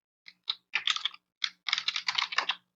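Close, quiet typing on a computer keyboard while writing a SQL query: a few isolated key taps, then two quick bursts of rapid clicking separated by a short pause.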